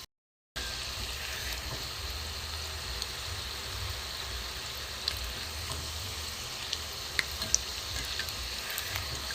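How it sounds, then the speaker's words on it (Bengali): Carrot shrimp pitha made with rice flour fries in a pan with a steady, close sizzle, small pops crackling through the bubbling oil, and no voices. "একটু ভালো করে ভাজা হোক।"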